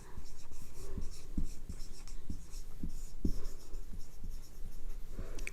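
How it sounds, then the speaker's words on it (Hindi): Chalk or marker writing on a board during a geometry lesson on pyramids, a steady run of scratchy strokes with sharp taps at uneven intervals, close and continuous with no talk. "चलो मैं लिख देती हूं"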